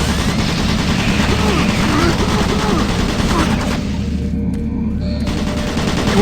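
Rapid automated turret gunfire from Doom 3 rattles in a sustained, loud fusillade, easing briefly near the end before resuming, with a synthetic warning voice in the mix.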